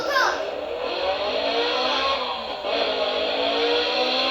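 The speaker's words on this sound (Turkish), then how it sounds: "Yarış araba sesi." A toy rocket scooter's electronic race car engine sound revs and whines up and down, close and fairly loud, with a brief dip midway.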